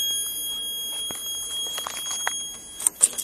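A faint, steady electronic alarm tone drones continuously from a Monaco Vulcan 1 fire alarm control panel, with a few brief louder chirps near the end.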